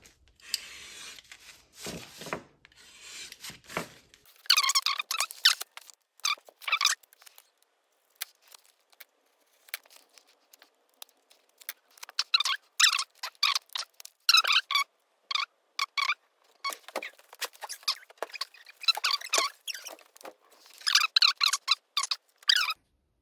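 Packaging for new motorcycle exhaust and reed parts is slit and pulled open with a razor blade, giving a series of squeaky, scraping plastic rubs in irregular bursts, close and fairly quiet.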